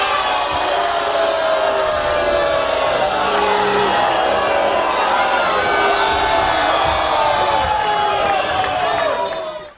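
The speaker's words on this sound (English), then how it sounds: "you can hear the crowd's not happy about that one" A large video game crowd roars and jeers unhappily, continuous, loud and dense, with scattered yells rising out of the mass of voices.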